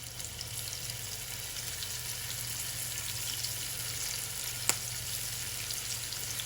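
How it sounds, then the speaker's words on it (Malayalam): Prawns frying in reused oil for a Thalassery prawn biryani, giving a steady, even, close-up sizzle that holds through the whole stretch, with one sharp tick partway through. "അപ്പോൾ നമുക്കിനി ബാക്കി പ്രോൺസ് ഫ്രൈ ചെയ്തെടുക്കാം."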